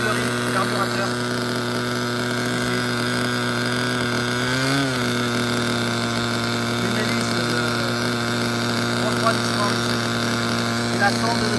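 A Nova model engine with a propeller drones at a steady high whine during break-in at around 7000 rpm, loud and continuous, while someone speaks in French over it.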